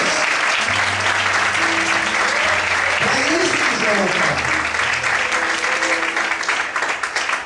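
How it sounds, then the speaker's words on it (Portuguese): A church congregation breaks into sustained, dense applause that fills the room, running under a preacher's amplified voice and a few shouted exclamations, with a rising sung note in the middle. "Pode aplaudir o Senhor?"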